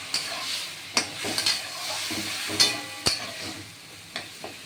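A spatula stirs potato curry simmering with water and sambar masala in a pan, soft steady sizzling punctuated by several distinct scrapes and knocks against the pan.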